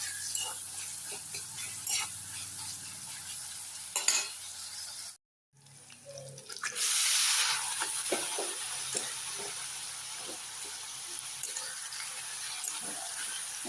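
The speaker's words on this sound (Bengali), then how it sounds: "বেশি করে কাঁচামরিচ কেটে একটা মাংস বোনা করতেছি" Chicken meat fries with plenty of chopped green chilies, making a steady close sizzle broken by stirring scrapes, a brief moment of silence midway, then a louder burst of hissing as cooking resumes.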